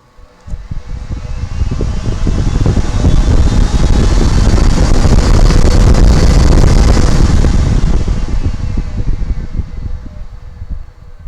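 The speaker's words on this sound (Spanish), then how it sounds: "en función de la curva hacia donde va, pues enciende un ventilador" A DIY wind-simulator fan on a sim-racing rig spins up into a loud, broad rushing roar that swells over a couple of seconds, holds steady, then tapers off near the end, with no voices.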